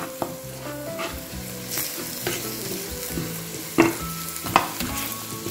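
A spoon stirs sweet paprika through a pan of chickpea and spinach stew as it fries, a steady close-up scraping and sizzle with two sharper clinks partway through.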